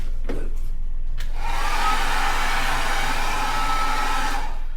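A hair dryer switches on in a Boracay hotel room after a few knocks and clicks, then blows with a steady, close, loud whoosh and whine before cutting off near the end.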